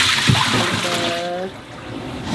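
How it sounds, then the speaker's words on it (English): Cold tap water runs steadily in a home kitchen while greens are rinsed for cooking with purple hull peas, a broad continuous wash that drops slightly in level partway through, with a brief tonal hum over it. "I'm gonna take some cold water."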